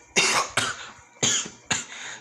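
A narrator's voice imitates a cough after someone spits out food: four harsh, forceful coughing bursts in quick succession, close and fairly loud, each with a rough breathy tail.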